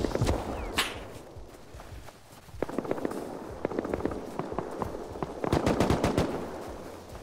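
An AK rifle fires at the player in a crowded 1000-player online survival server, with rapid bursts of close, cracking shots that grow denser and louder toward the end.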